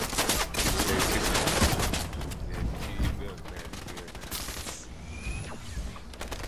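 Video game gunfire crackles in rapid bursts and single shots over several seconds, with a faint voice in the background.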